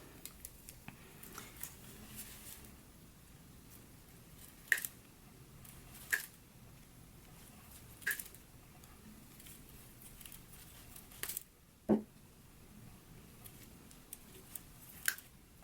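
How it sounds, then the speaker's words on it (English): Metal zipper teeth are pried off one side of a zipper tape while a jacket is being sewn, producing sparse, quiet clicks and snips at irregular intervals against a near-silent background. "I'm just going to remove the zipper teeth on this side"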